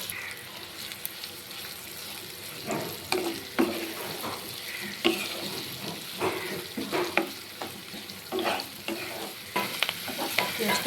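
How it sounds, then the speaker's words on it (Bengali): Chopped garlic frying in oil left over from frying eggs, a quiet close sizzle broken by repeated scraping stirs and utensil knocks that grow busier after the first few seconds. "ডিম ভাজার তেলে এবার আমি দিয়ে দিব কুচি করে কেটে রাখা রসুনটাকে হালকা করে একটু ভেজে নেব"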